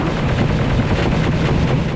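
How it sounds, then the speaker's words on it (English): Dark Troopers fire assault cannons in the 1995 PC game Star Wars: Dark Forces, a dense, loud, continuous barrage of rapid blasts and booms with no gaps or voices. "I see the Phase 2 Dark Troopers with jetpacks use the assault cannons too."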